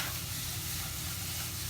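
Vegan fried rice ingredients sauteing in a pan, a steady even hiss of sizzling oil, faint and continuous with no voices.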